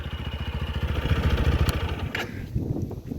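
A TVS Apache RTR 160 4V motorcycle, a 160 cc bike, runs close by with a steady bassy exhaust burble and a short rev swell partway through, the engine note staying loud throughout.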